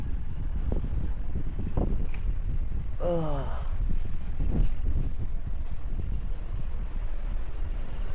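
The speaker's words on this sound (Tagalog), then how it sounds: "Ang lakas ng hangin." Steady low wind buffeting the microphone throughout, a constant roaring rumble with a brief higher whooshing sound partway through.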